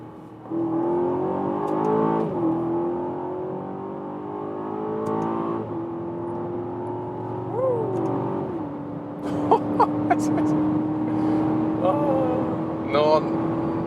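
Aston Martin DBX engine on a winding road, its tone stepping up and dropping through gear changes with a few brief pops, steady and close under occasional talk.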